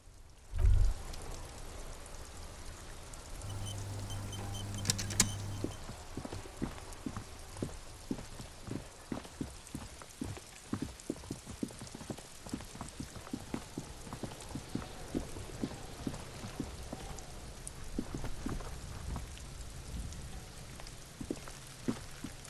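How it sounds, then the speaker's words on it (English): Steady rain patters over a night street in Disco Elysium, a dense hiss of drops with scattered sharper taps and knocks throughout, continuous and fairly close with no voices. "This rain will not let up anytime soon."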